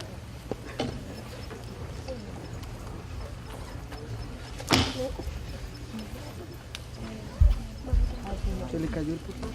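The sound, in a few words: laptop falling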